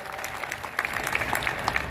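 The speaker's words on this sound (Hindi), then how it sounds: "एक बार जोरदार ताली बजाकर आप उनका स्वागत" An audience claps to welcome a guest at a BJP political gathering in Siyana, Bulandshahr, a short burst of moderately distant applause from a crowd.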